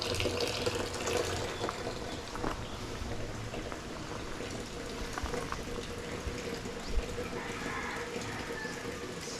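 Water pours steadily into a container on a construction site in the Philippines, filling it for mixing concrete; a continuous splashing, gurgling rush at moderate volume with no voices.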